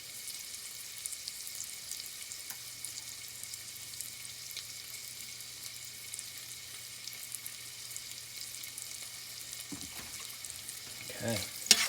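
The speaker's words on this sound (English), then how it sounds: "Listen to that sizzle." Sizzling of food frying in a pan while cooking huevos rancheros with dried peppers, a steady soft crackle held throughout, with a few louder clatters near the end.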